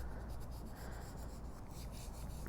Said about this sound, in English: I'm just grabbing my bone folder since it's out on my workstation, and gonna just rub this transfer right on to my card base